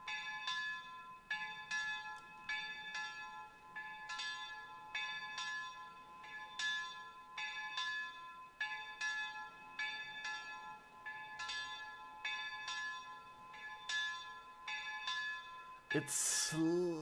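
Repeated swinging strikes of a church bell ring out in the video game Mundaun, steady and resonant with sustained overtones, ending in a sudden loud burst of other sound.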